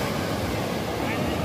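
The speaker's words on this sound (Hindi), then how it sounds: "अभी बिल्कुल आराम से लहरें आ रही है बिल्कुल शांति के साथ" Gentle sea waves wash onto Baga Beach in Goa as a soft, continuous surf hiss mixed with light wind noise, steady and fairly quiet throughout.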